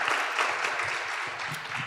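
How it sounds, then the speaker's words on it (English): An audience at a teen panel discussion claps for a panelist, a continuous moderate patter of many hands at mid distance, without voices. "Let's give Miss Hilary a hand clap."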